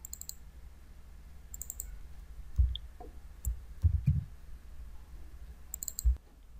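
Sparse computer mouse clicks, a handful of soft separate taps spread out with pauses, faint and close against a quiet background while working in Tally accounting software.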